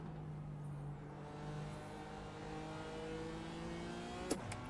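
A McLaren race car in the iRacing sim during an IMSA race, its engine a steady droning tone with harmonic bands, then a quick pitch drop near the end as another car sweeps past close by.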